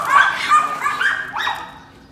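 Dogs at a training session in Makindi Hills give a few short, high whimpering yips and barks in quick bursts, fairly close and clear, with no one talking.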